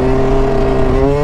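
Two-stroke motorcycle engine held at a steady, loud rev on an abandoned lot, its buzzing drone close and continuous throughout with no voices.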